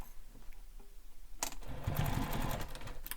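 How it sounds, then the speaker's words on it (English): A sewing machine top stitches across the short ends of a fabric bag, starting after a quiet moment with a steady, close mechanical whir and rapid needle chatter that continues to the end. "So now we're going to top stitch these short ends"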